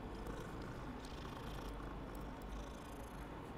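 A video game cat purrs with a steady low rumble, running continuously, close and even, with no voices.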